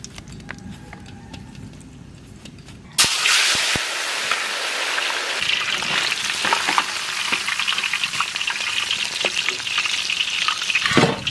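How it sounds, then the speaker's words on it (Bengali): Vola (bhetki) fish frying in mustard oil in a village kitchen: after about three seconds of quiet, a loud, dense, steady sizzle starts suddenly and keeps crackling close by. "দিয়ে দেবো সর্ষের তেল মাছ ভাজার জন্য"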